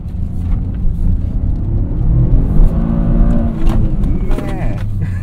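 A Toyota GR Corolla engine drones and revs steadily while the car is driven hard in a drift attempt, with a continuous low rumble and tire sounds heard from inside the cabin.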